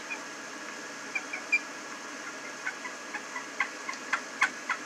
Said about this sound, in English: for the cut, you make the little short Ay, ay, ay